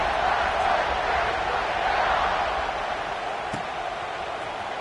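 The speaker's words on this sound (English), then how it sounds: "this crowd is buzzing after that last score" A college football stadium crowd keeps up a steady, dense roar after a score, broad and distant, with no distinct cheers or claps standing out.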